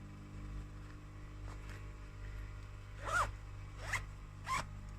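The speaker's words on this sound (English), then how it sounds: "zip it all the way around, and that is the base without the bag on" A sewn zipper on a fabric bag base being zipped, three short rasping pulls near the end following quieter fabric handling, close and distinct against a faint low hum.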